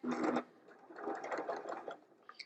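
A sewing machine zigzag-stitches batting scraps together, a faint, close mechanical whir that rises and falls in short bursts.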